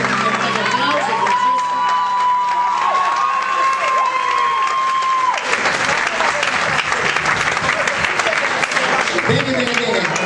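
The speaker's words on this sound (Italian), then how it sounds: "un grande applauso ancora a Domenico Tanzi e Francesco Ungaro" An audience breaks into loud, sustained applause with cheering, steady throughout, while a voice talks over the start of it.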